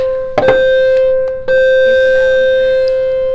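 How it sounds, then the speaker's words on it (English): A bell rings in a preschool setting, two sharp struck tones with a sustained ringing pitch that hangs on and slowly fades, loud and close. "perfect timing for that bell"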